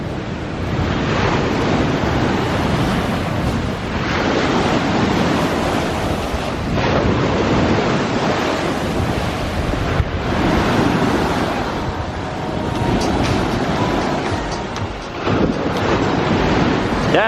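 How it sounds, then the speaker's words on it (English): Waves crash and surge steadily against seafront rocks in Antalya, Turkey, with a continuous roar and wind noise over the microphone, no voices. "Love the sound of the waves just crashing up against the rocks."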